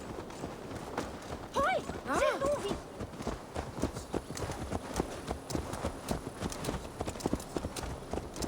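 Horse hooves clip-clop steadily through the open world of Assassin's Creed Valhalla, a close, even walking rhythm running the whole stretch beneath game ambience, with a brief voiced sound partway through.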